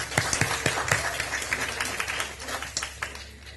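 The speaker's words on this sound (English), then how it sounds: "But let's give Peter a round of applause." A lecture audience offers a modest round of applause for a foreign correspondent. Sparse individual claps sound fairly near, uneven and gradually thinning out.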